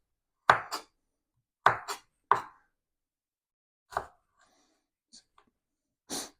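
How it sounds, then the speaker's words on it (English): A knife chops vegetables into thin strips on a cutting board, with a handful of sharp close thuds coming in uneven pairs and singles, separated by brief pauses. "So I'm just cutting it into kind of thin strips."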